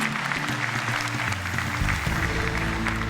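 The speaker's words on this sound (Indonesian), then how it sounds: "Jadi beri tepuk tangan sekali lagi untuk mereka berdua." A stand-up comedy audience at Stand Up Comedy Indonesia Season 5 claps with sustained, even applause, and a low musical tone underneath shifts pitch partway through.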